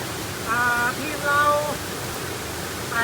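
The Pha Sam Tok waterfall in the Tenasserim mountains gives a steady, moderate roar from a little way off, with a few thin high whistles briefly rising above the flow.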